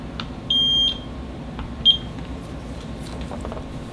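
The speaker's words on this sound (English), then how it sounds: "So I could actually just check continuity." A multimeter continuity tester gives two short, clear beeps while probing ground traces on a Pioneer LaserActive PAC board, a half-second tone followed by a briefer chirp, with faint background hum.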